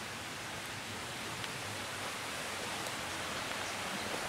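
Waterfall heard from a distance on a mountain trail near Kralicky Sneznik in Poland, a faint, steady broadband rush with no other sounds.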